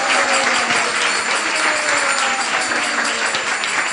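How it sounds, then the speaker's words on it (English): A rousing round of applause from the audience at a Gita Jayanti celebration, loud and dense continuous clapping that fills the whole stretch evenly without talk. "let's have a rousing round of applause"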